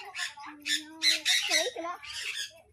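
Loud, harsh squawks from a bird at a farm in Thailand come in several bursts, close by. A person's voice is heard under and between the calls.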